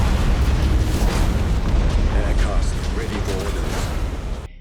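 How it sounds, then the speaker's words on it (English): Deep, bassy explosions roll continuously as spaceships clash in a Warhammer 40K space battle in Battlefleet Gothic: Armada 2, loud and dense with crashing impacts. A voice talks faintly underneath. "the deep, bassy explosions and the sounds of ships crashing into each other"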